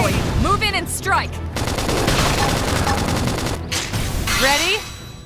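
Sustained automatic gunfire from a Xenoblade Chronicles X battle rattles loud and continuous, with game voices calling out at the start and end of the barrage.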